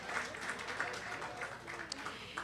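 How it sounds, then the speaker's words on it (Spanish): Audience at a book presentation clapping for David, faint steady applause from a small crowd, a bit distant, lasting throughout. "Y pues primero le pido un aplauso para David,"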